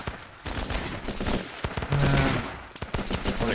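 Grenade launcher and other weapons fire in the video game Running with Rifles, heard as a dense run of loud, close explosive shots that rattle on without pause.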